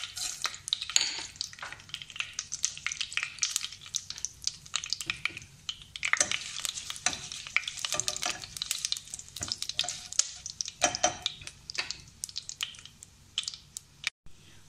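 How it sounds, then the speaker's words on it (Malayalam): Curry leaves, mustard seeds and chillies sizzling in hot coconut oil in a pan: irregular bursts of crackling and spitting, louder in spells and quieter between, with a sharp pop near the end. "വെളിച്ചെണ്ണ ചൂടായപ്പോൾ കറിവേപ്പിലിട്ടു. ഇനി ഇതിലേക്ക് ഈ കടുകും മുളകും ഞാൻ ഒന്ന് ചേർക്കാൻ പോവാണ്."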